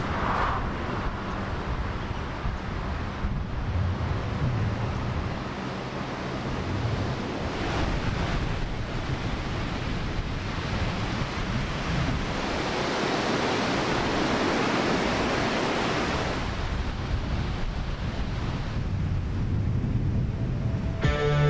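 Steady, continuous surf rolling in at a beachside cafe, heard as a broad wash of wave noise with wind buffeting the microphone throughout and no talking.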